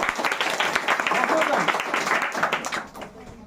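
A school audience at a quiz competition applauds a young contestant, a dense wash of clapping at moderate volume that tapers off near the end, with a voice speaking over it.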